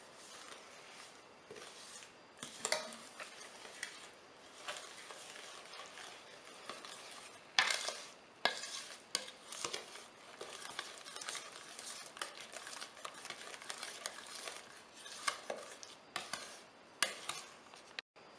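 Banana chocolate chip bread batter being mixed in a bowl, a quiet, close run of soft scraping and tapping strokes from the spoon with no speech.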